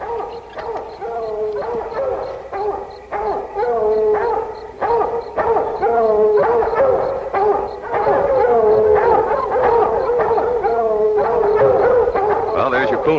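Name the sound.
coon hounds baying at treed raccoon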